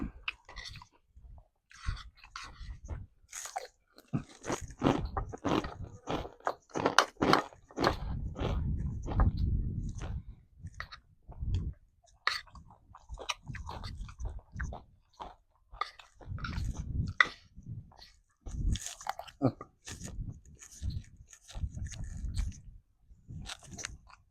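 Crispy, crunchy food is chewed close up during a simple meal out in the rice fields, with repeated wet bites and crunches in an irregular rhythm and short pauses between mouthfuls.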